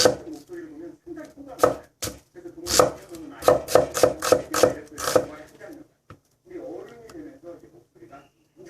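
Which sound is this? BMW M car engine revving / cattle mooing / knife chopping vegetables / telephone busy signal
knife chopping vegetables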